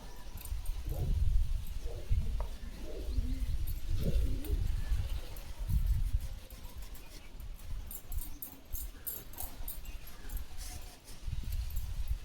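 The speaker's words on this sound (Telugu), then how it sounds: "ఇక్కడ ఉంటాం రోజుకి 50 పావురాలు ఉంటున్నాయి" Low, repeated cooing of pigeons with a steady background hum, the calls rising and falling across the whole stretch.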